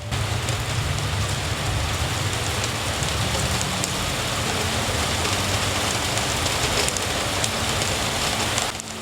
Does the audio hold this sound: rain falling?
yes